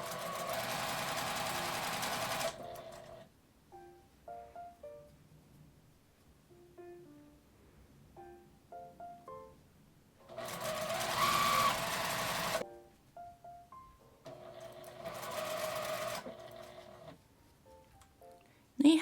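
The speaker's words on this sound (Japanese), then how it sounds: "引っ張って1センチぐらいの縫い代で縫います" Sewing machine stitching stretchy popcorn waffle knit for a headband, fabric pulled taut with a 1 cm seam allowance; three loud, steady bursts of rapid stitching separated by quiet pauses with small handling clicks.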